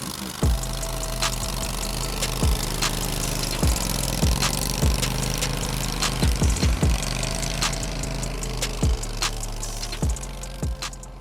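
The engine of an Argo Avenger 8x8 tracked ATV drives through deep snow, running with a steady mid-pitched drone, while repeated sharp knocks and clunks punctuate it at irregular intervals, close and fairly loud.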